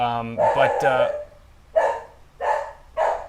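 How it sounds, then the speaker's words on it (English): A dog barks loudly and close by, first with a whining, tonal yelp, then three separate barks spaced evenly about half a second to a second apart, in an otherwise quiet room. "It's a dog."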